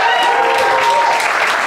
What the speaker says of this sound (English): Clap it up if it's your very first time at this club.